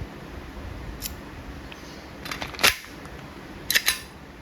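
An Umarex Glock 17 Gen 5 airgun loaded with 4.5mm steel BBs gives a few sharp, close snaps: one crisp crack near the middle, then a quick pair of clicks, over a quiet background.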